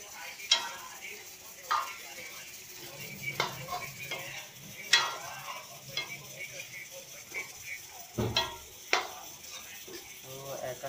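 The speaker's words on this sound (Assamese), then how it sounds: "আম, জলকীয়া, পিঁয়াজ একেলগে ফ্ৰাই কৰি দিছোঁ" Onion, chili and potatoes fry together in a pan for an Assamese village recipe, giving a steady soft sizzle broken by repeated clanks and scrapes of a spatula against the pan, fairly quiet overall with no talk.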